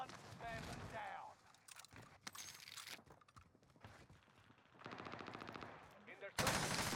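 Automatic gunfire in Call of Duty Warzone on Rebirth Island, an LC10 among the weapons: rapid bursts come in bunches, some near and loud, others farther off, with in-game radio voices talking between them.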